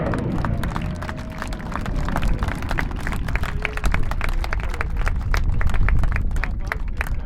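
An airshow crowd at Southport claps for the RAF Red Arrows Synchro pair, steady scattered applause from many hands over a broad continuous outdoor rumble.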